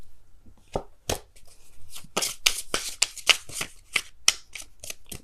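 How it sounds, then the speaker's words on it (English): Tarot cards are shuffled by hand, a quick run of crisp riffling snaps and slaps, close and distinct, with no talking. "Can I just shuffle?"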